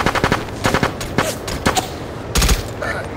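Rapid bursts of automatic gunfire crack in quick succession during a firefight in SOCOM U.S. Navy SEALs Fireteam Bravo 3 on PSP, close and loud, with a heavier burst near the end.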